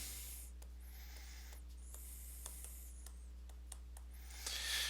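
Writing the word potassium on a board, a series of short scratchy strokes and light ticks over a steady low hum, ending in a louder rubbing swipe.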